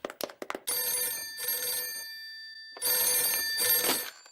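A cartoon telephone in Ben and Holly's Little Kingdom rings in two long trilling bursts with a pause between them, loud and close, after a few short clicks at the start, with no talking.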